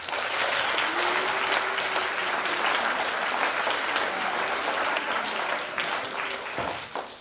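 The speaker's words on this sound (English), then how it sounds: "let's give a big round of applause to over 30 volunteers we have at this event" An audience at a school robotics event applauds volunteers, a dense, sustained wash of clapping from a large crowd lasting several seconds before tapering off at the end.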